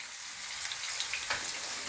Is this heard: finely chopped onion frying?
yes